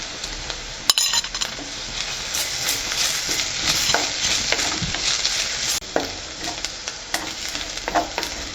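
Onions sizzle steadily in a hot pan while a utensil stirs and scrapes, with occasional clinks against the metal, while making egg drop curry.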